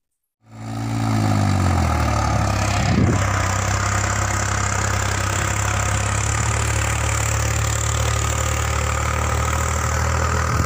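A New Holland 3630 4WD tractor with a harrow starts up and settles into a steady, close diesel idle, a low continuous rumble that holds evenly throughout with no talk.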